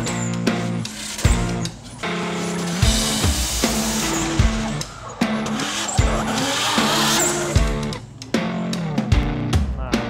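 Drift car at a Drift War drift event in Jakarta, engine revving hard through gear changes with loud, repeated tire squeal and skidding, close and continuous throughout.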